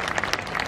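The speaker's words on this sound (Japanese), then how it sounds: "真なこの墓場の歌姫にもう一度大きな拍手。" Dense crowd applause at a stage dance show at Universal Studios Japan, continuous loud clapping from many hands over a very short span.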